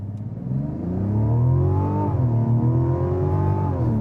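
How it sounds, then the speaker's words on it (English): A 2026 Mazda CX-90 Turbo S SUV accelerating hard from a standstill in sport mode after brake torquing, its engine droning and rising loud and close, with a brief gear-shift dip midway; no talk. "To get the best 0 to 60 time, we'll go ahead and test that here in sport mode."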